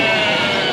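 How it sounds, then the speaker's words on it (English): A sheep in a large livestock shed at the Royal Welsh agricultural show gives one loud, close, sustained bleat. "full of sheep, and more sheep"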